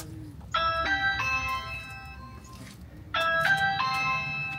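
A house doorbell rings twice, each a multi-tone chime sequence with bright sustained notes that decay, separated by a short pause, clear and fairly close over a quiet background.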